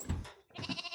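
A sheep on a farm gives a short, close bleat in two quick bursts, alone with no talk.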